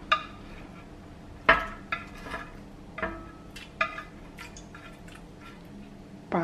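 Pan-fried chicken thigh pieces and green onions go into a hotpot of broth and tofu: a sequence of sharp clinks from utensils and cookware, with soft drips and plops in between, and no voices.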